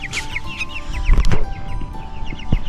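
Chickens being moved out to pasture cluck and squawk up close in quick, loud bursts, a few sharp calls standing out over shuffling.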